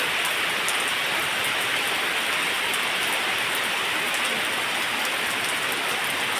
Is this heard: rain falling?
yes